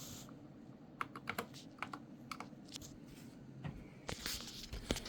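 Typing on a Corsair K100 RGB keyboard fitted with new keycaps, quiet close key clicks tapping in irregular bursts over a soft room background.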